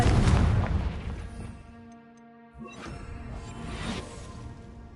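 A Confringo blasting spell bursts in Hogwarts Legacy with a heavy boom and crash up front, fading into a ringing tail, then a second sharp impact and rumbling debris follow a few seconds later.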